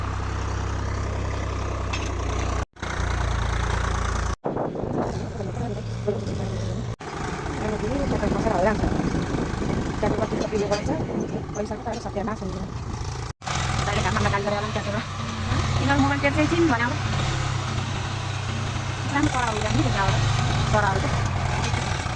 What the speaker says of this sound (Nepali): अब एकछिनमा ट्र्याक्टर चल्छ।